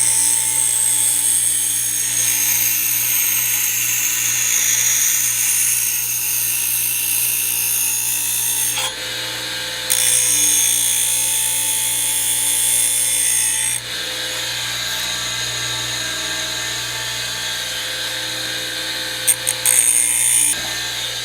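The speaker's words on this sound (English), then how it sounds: "I'm going to go ahead and grind that down" An old Buffalo Tools electric grinder grinds about a quarter inch off the back of a chrome windshield trim hook for an '88 Honda GL1500 Goldwing, a steady loud whine running almost unbroken with two brief dips.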